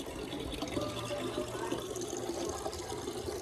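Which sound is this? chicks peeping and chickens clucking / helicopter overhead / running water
running water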